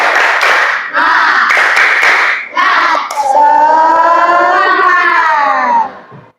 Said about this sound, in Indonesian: Ya, coba tepuk semangat.